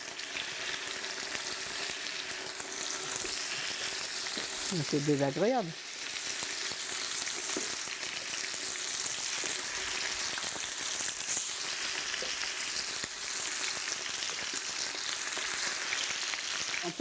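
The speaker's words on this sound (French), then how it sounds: "Nous, les cuisinières, on aime bien quand ça grésille comme ça" Chicken pieces frying in very hot oil give a steady, close crackling sizzle that runs the whole time, with a short stirring swish partway through and a brief spoken remark.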